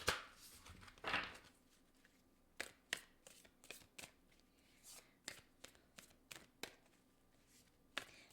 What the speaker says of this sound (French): Allez chercher 3 cartes.